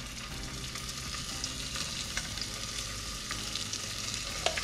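Shrimp stir-fry in a pan for a Vietnamese sour soup with water spinach, crackling and sizzling continuously with occasional scraping stirs, close and clear without speech.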